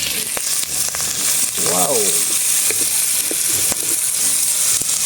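Pork sautéed with shrimp paste sizzling loudly and steadily in a pan, with stirring scrapes and a brief exclamation from a man partway through.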